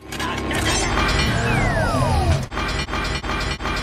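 Devastator's vortex grinder from a Transformers film cutting off: a dense, loud mechanical grinding roar with a descending whine, then abruptly breaking into rhythmic metallic clanks and pulses as the blades stop.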